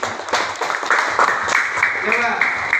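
Students in a classroom applaud briefly, a short burst of mixed clapping blended with overlapping children's voices and chatter.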